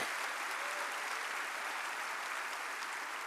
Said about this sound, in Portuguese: Você pode dar um aplauso ao Senhor por essa verdade?